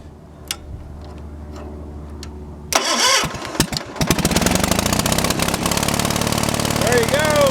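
A cold Kohler engine cranks over at about 2.7 s after a quiet stretch with faint ticking, then catches and runs steadily, loud and close, to the end.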